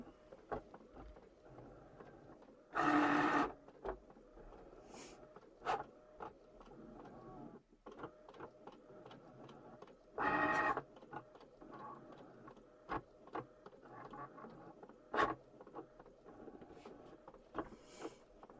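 A Cricut cutting machine whirs and ticks softly while scanning registration marks on photo paper, with quiet clicks and two short louder motor bursts in an otherwise faint, close-up scene.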